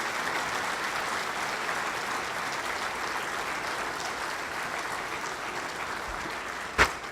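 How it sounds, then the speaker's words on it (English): Sustained applause from a luncheon audience, a dense even patter of many hands clapping throughout, ending with a sharp knock near the close. "Now let's have a big round of applause for these WISD students."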